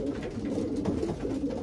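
White grizzle racing pigeons, including a 2010 grizzle cock, coo softly and continuously inside a home loft, a steady low murmur of several birds close by with no talk over it.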